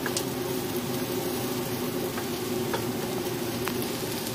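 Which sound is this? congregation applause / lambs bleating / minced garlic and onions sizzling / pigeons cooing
minced garlic and onions sizzling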